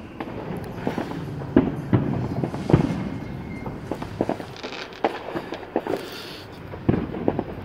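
Fourth of July fireworks crackle and pop in scattered bursts, some sharper and nearer, over a steady outdoor rumble.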